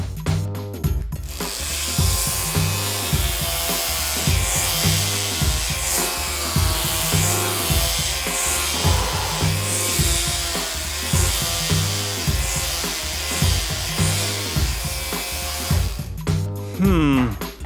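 Philips epilator buzzing steadily against the skin of the inner thigh, a loud, close, continuous rattling whir with rhythmic pulsing that holds for most of the stretch before cutting out near the end.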